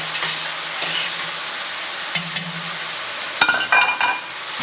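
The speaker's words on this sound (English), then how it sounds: "give that a good mix so nothing sticks at the bottom" Pasta stirred in a pot of boiling water, with a steady bubbling hiss and scraping clinks of a spoon against the pot in short bursts, close and clear with no talk.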